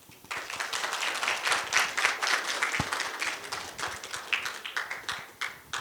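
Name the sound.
audience applause for professor Rosemar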